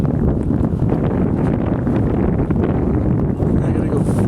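Steady outdoor wind buffeting a microphone near water where a radio-controlled plane is being flown, a loud continuous low rumble with gusty flutter throughout, no clear voices.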